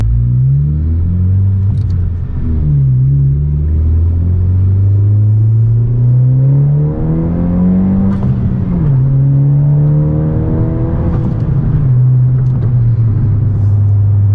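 A 2020 Honda Civic Si with a downpipe, accelerating hard through the gears: a loud, close engine drone rising in pitch, dipping at shifts and climbing again.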